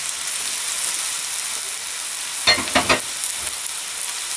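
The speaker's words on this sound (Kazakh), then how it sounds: "Енді картоплын да біраз қуыру керек" Potatoes frying with carrots and onions in a cauldron give a steady, close sizzle, broken near the end by a few short clattering stirs.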